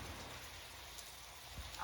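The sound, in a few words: heavy rain at night heard from a balcony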